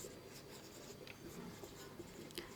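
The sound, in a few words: writing by hand during an English grammar lesson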